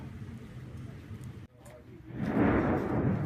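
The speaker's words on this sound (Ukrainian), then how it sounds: "на задньому фоні вибухи" Distant explosions in wartime Kherson, heard from outside a Silpo supermarket: a low, heavy rumble swells after a brief lull and rolls on beneath the background street noise.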